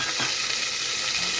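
Cumin and onions frying in a pan for tomato rice, making a steady, dense hiss of sizzling oil that holds close and loud throughout with no talking.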